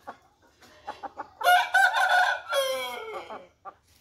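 A chicken clucks and squawks loudly up close, with a drawn-out crowing call in the middle and a few short clucks before and after.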